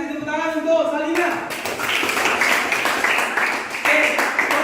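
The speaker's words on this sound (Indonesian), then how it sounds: "tepuk tangan untuk Salina" Classroom applause for a student after a group presentation on electric current, a dense burst of many hands clapping that starts after a brief voice and carries steadily to the end, fairly loud and close.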